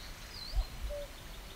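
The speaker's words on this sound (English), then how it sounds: "Already sound of cuckoos, beautiful light." Cuckoos calling at evening in Connemara, County Galway, Ireland: two soft, low hoots in quick succession, faint and distant over quiet outdoor ambience.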